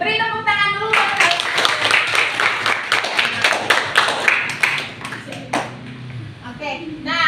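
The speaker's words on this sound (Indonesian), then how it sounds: "Beri tepuk tangan dulu buat mereka." Students in a classroom clap together for a group of classmates, a dense burst of applause lasting several seconds with children's voices talking over it before and after.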